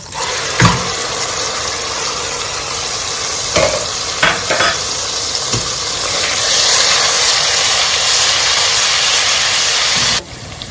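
Blended ginger and garlic fry in a pan for a tomato stew base, giving a steady close sizzle and hiss with a few stirring scrapes, then cutting off near the end.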